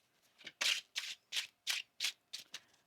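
Tarot cards are shuffled by hand in a quiet room, about seven crisp, papery riffling bursts in quick succession, close and fairly soft.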